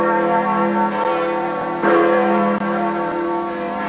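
Church bell of Notre-Dame, the large neo-Gothic church with high towers in Canada, ringing with sustained resonant tones and a fresh strike midway, steady and fairly loud, with no voices.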